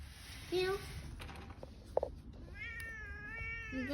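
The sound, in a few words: stray cat meowing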